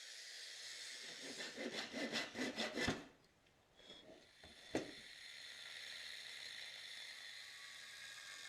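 An intercooler core is sawn or rasped apart by hand in a rapid run of repeated rough strokes, loud and close for a few seconds, followed by a pause, a single sharp knock and then a steady hiss.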